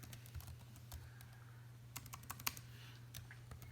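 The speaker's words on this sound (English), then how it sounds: "I'm typing at an angle, so it makes it hard." Typing on a Chromebook keyboard from an angle: quiet, irregular key clicks come in short bursts over a steady low hum, with a cluster of quick taps toward the end.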